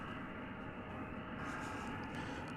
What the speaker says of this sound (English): Flight coming in from Silao in Mexico.